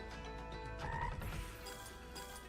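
Croaking toad call from the Tai the Toad online casino slot game, repeated in a cluster of short croaks near the middle and set over continuous bright slot-machine music and jingling effects, with no talking.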